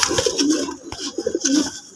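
A Rajgolla pigeon pair coos close by, soft throaty rolling calls repeating in short bursts over a couple of seconds.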